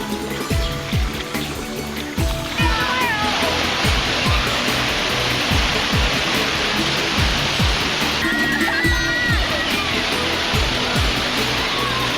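A waterfall at a falls resort roars loud and unbroken, a thick wash of rushing, splashing water that never lets up.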